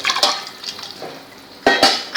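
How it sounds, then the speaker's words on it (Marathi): Strained tomato water is poured into a pot on the stove for tomato soup, with splashy liquid bursts, a lull, then another loud close pour along with light clinks of metal. "ह्याच्यात आपण हे गाळून घेतलेलं पाणी घालायचं आहे."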